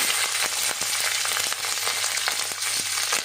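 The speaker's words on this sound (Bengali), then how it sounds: "আমার কড়াটা গরম হয়ে গেছে, আমি এবার কুমড়ার তরকারিটা ছক্কা মেরে নেব।" Whole spices, bay leaf and green chilies frying in a hot wok for a pumpkin curry, a steady close, loud sizzle with soft crackles and occasional light scrapes, no voices.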